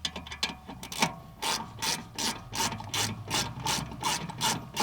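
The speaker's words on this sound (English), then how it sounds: "I'm just going to start off with my ratchet." A ratchet wrench loosens bolts on the brakes of a Vauxhall Vivaro van, giving rapid rhythmic ratcheting clicks in repeated bursts, close and moderately quiet, with no talking.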